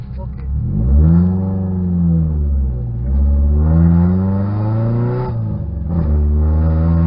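A Toyota 86 engine revs up and eases off over and over while driving, with loud rising and falling engine pitch close by and a steady low rumble underneath.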